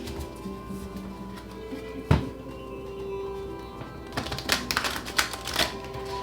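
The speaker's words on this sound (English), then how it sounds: "Okay, let's get 2 more shuffles." Tarot cards being shuffled by hand during a reading, crisp papery riffles and taps at close range, with a sharp knock near the start and a busier flurry of shuffling toward the end, no voices.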